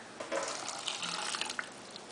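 Hot water runs steadily for a couple of seconds, a close liquid pour of about 1 3/4 cups with a faint splashy hiss and no talking, for dissolving gelatin.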